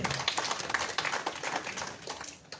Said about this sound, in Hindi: जोरदार ताली से उसको धन्यवाद दें